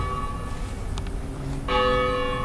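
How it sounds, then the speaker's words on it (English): Church bell ringing from a bell tower, a bright sustained toll with long ringing overtones that strikes clearly partway through and hangs on, moderately loud against a low background hum. "Bell tower."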